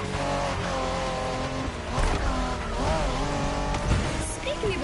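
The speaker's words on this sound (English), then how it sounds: "Are you familiar with the Honda you're driving?" Honda NSX, a 1990s Japanese sports car, driven in the racing game The Crew Motorfest; a steady engine drone rises and falls with revs, with tire noise and a voice talking over it throughout.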